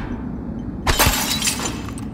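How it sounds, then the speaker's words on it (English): Glass smashes suddenly in the sci-fi video game Prey, a sharp loud crash followed by a bright, lingering tinkle of falling shards over low ambient game hum. "if I break the glass, will that make him come over here and try to..."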